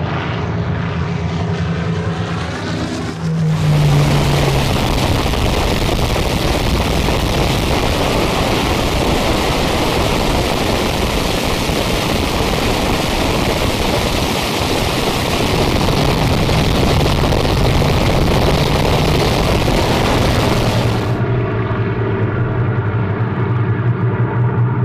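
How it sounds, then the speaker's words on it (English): Merlin and Griffon piston aircraft engines roar loud and close during a display flight, a dense, sustained rumbling drone that swells in abruptly and fades at the end, with lighter engine hum before and after. "A symphony of Merlin and Griffon engines to stir the soul."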